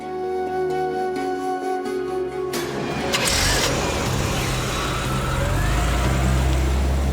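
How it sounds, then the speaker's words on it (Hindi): A car engine starts with a rough whine, then surges into a loud, steady rumble and roar as the vehicle pulls away close by, with no voices. "गाड़ी अभी गई है"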